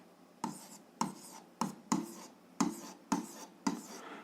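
A number written by hand while working a seventh-grade physics problem, seven crisp pen strokes tapping and scratching at a steady pace, close up and alone without any voices.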